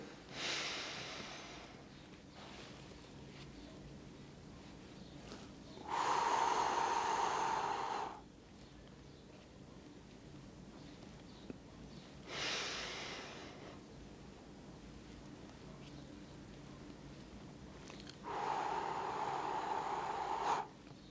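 Slow square-breathing exercise with breath holds: four long, loud breaths through the nose or mouth spaced several seconds apart, with quiet pauses between them, close to the microphone.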